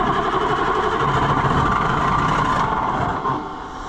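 A White 4-150 tractor with a Caterpillar 3208 diesel V8 cranking and nearly catching, a loud, close, rough engine roar that holds steady and then sags and fades toward the end.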